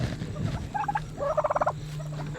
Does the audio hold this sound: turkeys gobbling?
yes